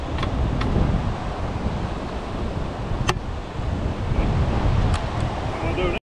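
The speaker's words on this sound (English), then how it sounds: "This is Burrum Heads at high tide." Wind buffets the microphone on a beach at Burrum Heads at high tide, with steady rushing waves and surf underneath and a few brief clicks, loud and continuous.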